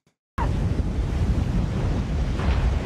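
Sand waves crash in the film Dune: Part One, a dense roaring rush like surf that bursts in suddenly after a moment of near silence and surges on steadily, loud and close.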